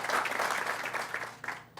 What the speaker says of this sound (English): let's give it applause